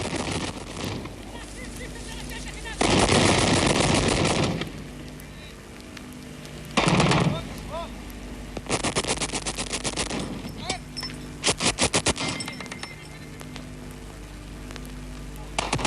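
Iraqi anti-aircraft batteries fire at Iranian Phantom jets, with several bursts of distant gunfire and sharp cracks spread across the stretch over a steady background noise.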